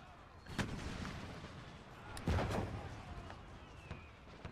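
Cannon fire and scattered gunfire in a battle in Empire: Total War, with a couple of loud booming blasts over a constant rumbling din.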